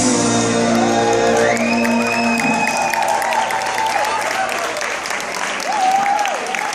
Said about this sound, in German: Ein donnernder Applaus für Ralf K.